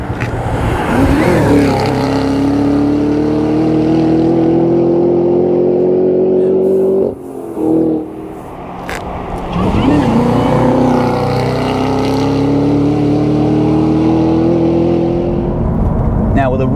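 A Cadillac CT5-V Blackwing launches hard and accelerates, its engine roaring loud and close as it climbs through the revs, a short dip at each gear change before the engine builds again.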